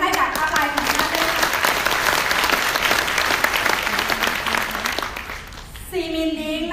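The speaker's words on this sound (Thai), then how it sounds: "ปรบมือดังๆให้กับอาภัยของท่านด้วยค่ะ" Loud, dense audience applause at a sales and business seminar, sustained clapping from a large crowd for about five seconds before a voice comes back in over its tail.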